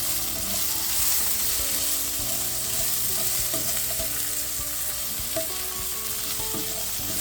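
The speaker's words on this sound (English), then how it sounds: "Let's give this a stir." Parsnips and carrots sizzling in a hot pan while being stirred, a steady frying hiss with intermittent scraping and clinks of the spoon against the pan, close and alone without talk.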